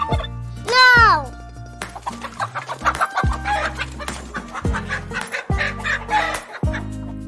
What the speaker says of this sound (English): What sound does a chicken make?